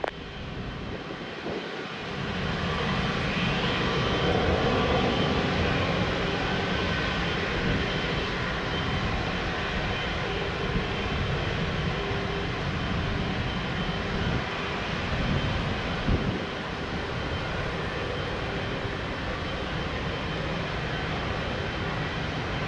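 A fixed-wing airliner on final approach at Lisbon Airport, its engine roar steady and broadband for the whole stretch, moderately loud and continuous without a clear peak, heard alone with no talk over it.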